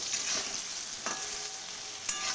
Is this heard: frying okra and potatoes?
yes